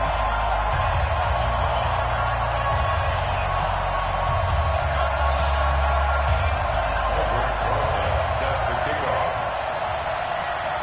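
Stadium crowd noise in a football video game before a Washington Redskins vs. Atlanta Falcons matchup, a steady loud roar of cheering lasting throughout with a commentator's voice over it.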